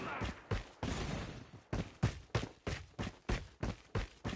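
Gunfire in a Call of Duty multiplayer match with a sniper rifle and pistol: about a dozen sharp, evenly spaced shots ring out in quick succession, loud and close.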